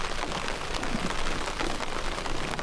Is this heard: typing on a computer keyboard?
no